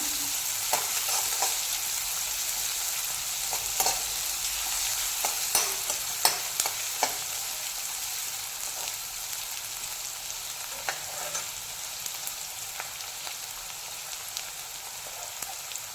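Onion sautés with cumin in a pan for a spicy shrimp kharda, a continuous close sizzle broken by repeated scraping stirs and small crackles throughout.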